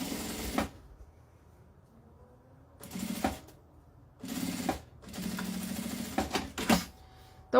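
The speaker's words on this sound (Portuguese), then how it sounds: "Eu vou começar, então, costurando o viés" Sewing machine stitching bias binding onto mesh fabric for a men's toiletry case, several bursts of fast steady needle rattling separated by quiet pauses, close and with no talk.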